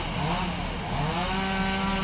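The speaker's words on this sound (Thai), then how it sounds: "แล้วเสียงเลื่อยยนที่ได้ยินอยู่นั้นก็กำลังตัด ไม้ยูคาครับ" A chainsaw cuts eucalyptus wood at a backhoe recovery site where trucks are hauling timber. The engine drones continuously with wavering pitch, fairly loud, and there is no talk.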